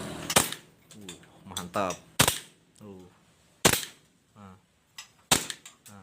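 Glock KP 18 pistol fired in single-shot mode, five sharp, separate reports spaced about a second apart, close and loud, with someone speaking between the shots.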